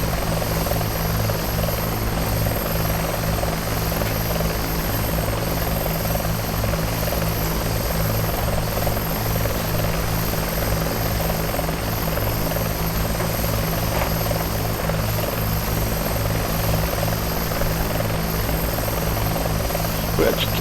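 Bell 412 helicopter flying in the X-Plane 11 simulator, a steady loud rotor and turbine drone with a constant low thumping beat, continuous for the full length without talk.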